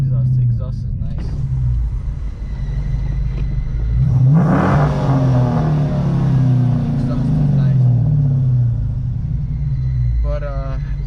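Deep engine rumble and exhaust note from a car fitted with a 6.1 ported SRT intake manifold, rising and falling as it accelerates while driving, with someone talking over it.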